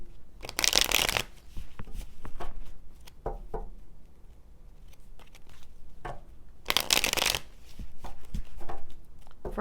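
Tarot cards are shuffled close by in two strong bursts of riffling and slapping, with softer handling rustles between them and no speech.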